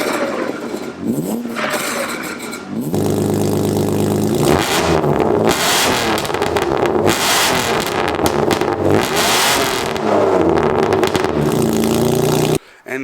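A BMW E36 with a freshly installed exhaust revs hard and loud up close, the engine roaring steadily for most of the stretch before cutting off near the end.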